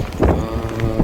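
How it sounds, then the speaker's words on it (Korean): Strong northwest winter wind blowing across the open sea on a small fishing boat, a steady loud roar buffeting the microphone for about a second with no voices. "북서풍이 좀 강하게 불고 있고요"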